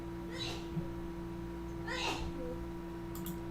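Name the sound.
neighbor sneezing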